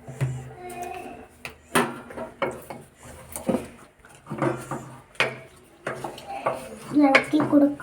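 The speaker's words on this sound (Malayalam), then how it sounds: "ഇളക്കി കൊടുക്കുക." Food being stirred in a pot while cooking, with repeated clinks and scrapes of a utensil against the pan in uneven strokes, close by, with a voice speaking at times.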